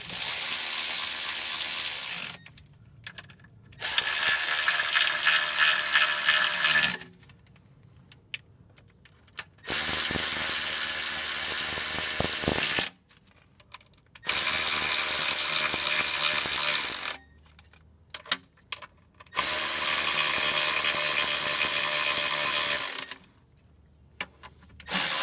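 Ratchet wrench clicking steadily as it backs out transmission pan bolts on a GM 4T40E automatic, loud and close, in long bursts of rapid ratcheting separated by short pauses, with no talk.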